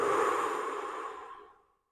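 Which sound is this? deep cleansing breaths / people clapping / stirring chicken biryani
deep cleansing breaths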